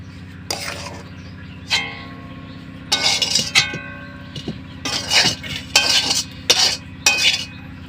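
Semolina is scraped onto a metal plate with a spoon, giving repeated clinks and scrapes of utensil on dish in an irregular rhythm, close and fairly loud, with a steady hum underneath.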